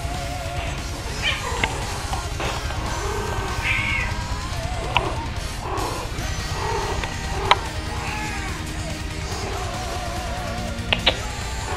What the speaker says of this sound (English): And that noise is my cat chasing heat.